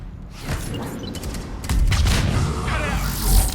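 Grenade blasts and bursts of gunfire in a Mass Effect 3 multiplayer match come as dense, crackling booms that build into heavier explosions toward the end, with some faint game speech mixed in.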